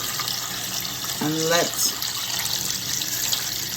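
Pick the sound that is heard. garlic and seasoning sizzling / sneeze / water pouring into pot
water pouring into pot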